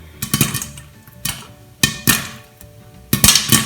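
Popcorn kernels popping in a pan on the stove, heard as several sharp, loud pops in irregular bursts spread across the span, each a bright crack with short ringing decay.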